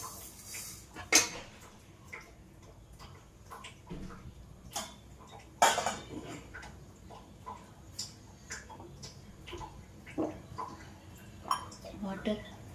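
Ingredients for Tamil-style payasam are dry roasted in a pan, heard as a scatter of sharp metallic clinks, scrapes and taps from a spoon against the pan, irregular and close, with quiet background noise between.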